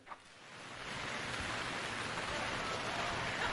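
Rain falling, a soft, even hiss that builds within the first second and then stays steady and fairly faint throughout.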